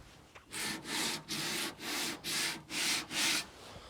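An 80-grit straight-edge sanding block rubbed back and forth over a car's bodywork during repair, giving seven steady, even rasping strokes in a regular rhythm, close and clear with no talking.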